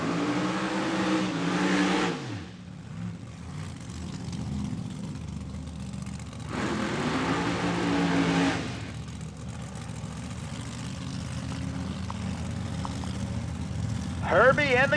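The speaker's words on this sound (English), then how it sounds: "they get their big Hemi fired up" A nitro funny car's Hemi engine roars and revs loudly in bursts at a drag race, dropping to a rough idle between, with a voice talking over the racket.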